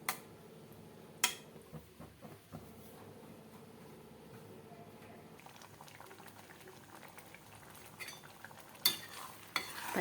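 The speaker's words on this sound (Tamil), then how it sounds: "ஒரு 2 நிமிஷம் நல்லா கொதிக்கட்டும்." Green peas masala gravy bubbling steadily in a pan, a continuous low simmering bubble with a few sharp clinks and spoon stirs standing out, with no talking.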